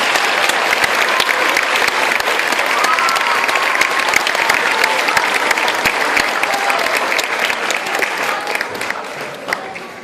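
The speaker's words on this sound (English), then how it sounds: "Let's give them a nice round of applause." An audience at a school moving-up ceremony claps steadily for about ten seconds, a dense, loud, continuous applause from a large crowd with no break.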